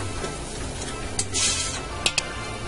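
Onions and flour cooking in a pot for beef bourguignon give a low, steady sizzle with occasional stirring scrapes and a couple of brief utensil clinks, close by and fairly quiet.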